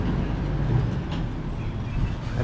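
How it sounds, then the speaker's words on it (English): A resort tram at Playa Bávaro, Punta Cana, rumbles past nearby outdoors with a steady low drone and faint rattling. "Look at this Barcelo tram"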